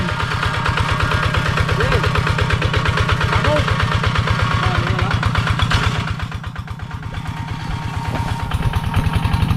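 A farm machine engine, once damaged by water in the engine and since repaired, chugs with a steady, rapid rhythmic putter, loud and close, easing briefly before picking back up; no clear talk over it.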